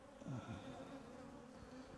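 Defensive honey bees at a hive buzz faintly in a steady swarm hum, with a few higher passes as individual bees fly close.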